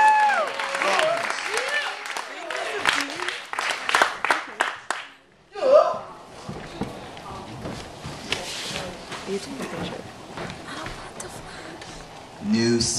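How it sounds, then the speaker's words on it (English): An audience at a live poetry night at the Nuyorican Poets Cafe claps for a performer. The moderately loud applause is broken by a brief lull, then rises again, with scattered voices and movement in the room. "If you're not clapping, you should be clapping for Joseph Robbins."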